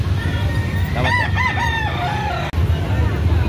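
A rooster at a Carbon market in Cebu gives one clear, rising-and-falling crow over steady background chatter and bustle, close and fairly loud.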